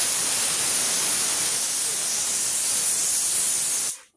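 A pressure cooker cooking dal lets off a loud, steady hiss of escaping steam that holds evenly for about four seconds before cutting off abruptly.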